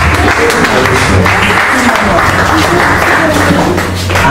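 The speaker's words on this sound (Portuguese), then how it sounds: "Aplauda o Senhor Jesus" A church congregation claps together loudly and continuously in a full, reverberant hall, with a low droning undertone of music or voices throughout.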